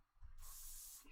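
A single sustained hiss of an aerosol can spraying paint on a large park street lamp, close and steady for about a second with a brief soft tail.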